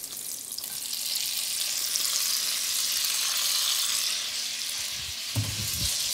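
Tomatoes hit a hot frying pan where chorizo is crisping and give a loud, steady sizzle that lasts throughout. Near the end come a few utensil clunks against the pan.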